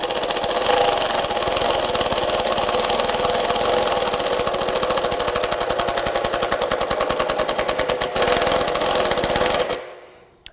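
A Metabo HPT WH18DEX brushless impact driver hammers a 3-inch decking screw in a rapid, steady rattling burst at close range for nearly ten seconds, briefly slowing near the end before stopping abruptly.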